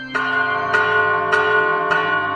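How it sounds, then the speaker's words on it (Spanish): Church bells ring after a baptism in four evenly spaced, bright strikes, each one left sustaining and overlapping the next. They are loud and close, with no voices. "Miren cómo sonríe con el sonido de las campanas."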